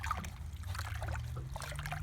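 Water sloshes and trickles steadily as a gold pan is shaken in creek water at Lynx Creek, producing a continuous close liquid swishing with small ripples and no pauses.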